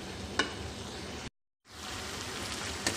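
Chicken and vegetable macaroni filling for bread rolls cooking in a pan produces a soft, even sizzle, cut by a brief silent gap, with a couple of faint utensil taps.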